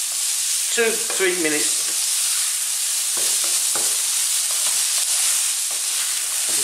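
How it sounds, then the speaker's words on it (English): Chinese sausage rice sizzles steadily in a hot pan, a constant loud frying hiss with occasional stirring scrapes, while someone speaks briefly over it. "So let's just fry this around for about"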